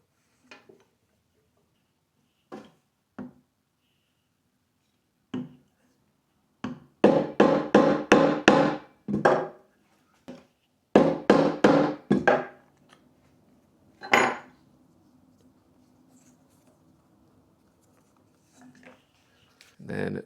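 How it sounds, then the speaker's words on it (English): Repeated hammer strikes setting a rivet through leather on a flat metal block while making barefoot sandals: sharp, close knocks, a few scattered single taps, then rapid bursts of blows, with faint talk between. "we're just going to hammer this down"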